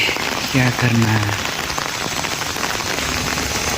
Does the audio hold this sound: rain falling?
yes